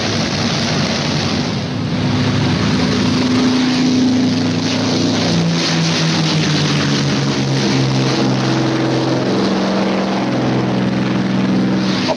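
Fighter plane engines warm up before the longest fighter flight on record, extra belly tanks fitted, in a World War II Pacific setting; a loud, steady propeller drone with rising and falling engine tones runs throughout.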